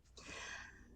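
A single quick sneeze, fairly faint, a sharp breathy burst that trails off within a second.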